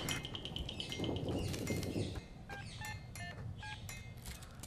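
A telephone number is dialed, a quick series of distinct keypad tones sounding one after another over a faint background hum, close and moderately quiet, with no voices.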